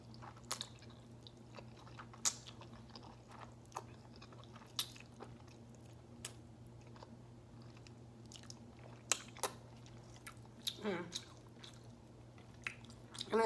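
Someone eats spicy ramen noodles up close, with soft wet chewing, slurps and occasional sharper bites and clicks in an otherwise quiet room over a faint steady hum.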